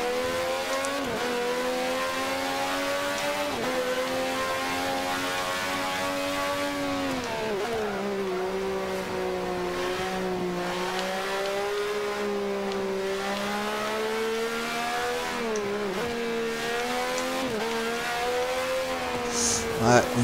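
Race car engine in Forza Motorsport 5 on the Nürburgring, a car pulling to the right, droning steadily with rising and falling pitch across shifts, continuous and loud throughout.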